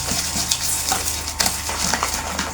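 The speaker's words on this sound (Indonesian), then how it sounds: "Siap, aduk dulu di sini. Kita kocok ya." Sugar and eggs being whisked in a bowl for a steamed palm sugar cake, a quick irregular scraping and clicking of the whisk against the bowl, close and continuous.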